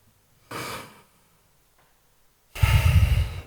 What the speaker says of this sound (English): This is a deep breathing